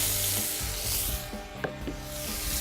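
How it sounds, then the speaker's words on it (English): Flank steak sears on a FireDisc cooker outdoors, giving a steady broadband sizzle. Soft scraping and rubbing sounds come and go over it. "time to put the flank steak in there. Let's get that in there, get a nice sear going"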